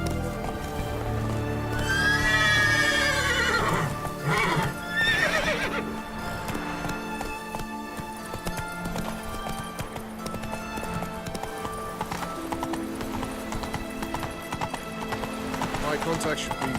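Geralt's horse Roach from The Witcher 3 game running, with rapid clip-clop hoofbeats and loud whinnies early on, over music, while someone speaks over it.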